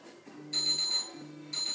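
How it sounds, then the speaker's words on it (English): Electronic workout interval timer sounding two bright high beeps about a second apart over a faint low hum, with no talking. "I'm gonna start the timer again, and when you hear the beep, we'll go."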